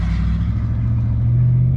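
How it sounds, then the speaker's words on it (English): A 2014 RAM 1500 with a Hemi V8 engine, a loud, close, deep steady rumble that lifts slightly in pitch toward the end, with no talking. "V8 power, buddy, Hemi."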